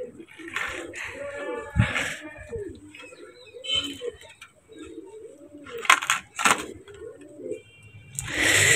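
Pigeons coo nearby in a series of soft, rolling, repeated calls, interspersed with people talking and occasional clattering sounds around the birds.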